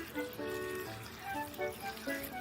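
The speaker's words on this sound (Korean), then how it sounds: "콩나물을 깨끗한 물로 2번에서 3번 씻어주세요." Bean sprouts swished and rinsed in clean water in a bowl, giving close, continuous sloshing and gurgling with small trickles and splashes rising and falling.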